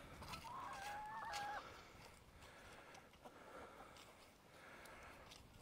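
Chickens, including white hens, cluck softly nearby in a backyard flock, with a brief louder squawking call early on over low, steady outdoor background noise.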